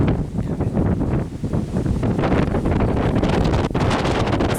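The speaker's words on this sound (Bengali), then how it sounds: "প্রচণ্ড বাতাস" Strong wind buffets the microphone on a cold mountaintop at Lake Arrowhead, a constant loud roaring rush with gusty swells and no talking.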